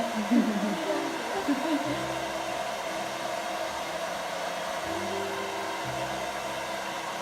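Close hair dryer blowing a steady airy roar while drying a child's hair at the roots near the scalp in a salon, with a low voice speaking faintly underneath.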